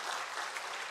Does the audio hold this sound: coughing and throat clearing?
no